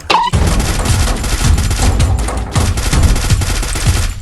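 Rapid automatic gunfire from the Garena Free Fire battle royale game, dense bursts of shots rattling continuously and loudly, with booming low thumps throughout.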